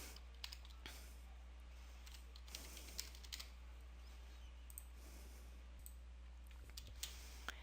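Sparse, faint clicks of typing on a computer keyboard at a steady, unhurried pace, low under a constant background hum with no talking.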